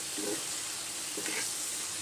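A stalk curry fries in a pan as its water cooks off, making a soft, continuous hiss and sizzle with a couple of faint stirring rustles.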